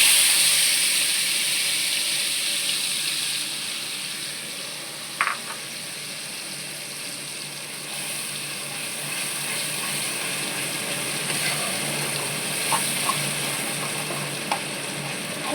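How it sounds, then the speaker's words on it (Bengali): Pointed gourd paste fries in hot oil with nigella seeds, making a steady close hiss and sizzle with a few faint clinks of a utensil against the pan. "কড়ায় তেল দিয়েছি, তেলের মধ্যে আমি এই কালো জিরেটা ফোড়ন দেব। কালো জিরেটা ফোড়ন দিলাম, দিয়ে এবারে এই পটল বাটাটা আমি দিয়ে দেবো।"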